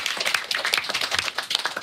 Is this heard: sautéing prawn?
no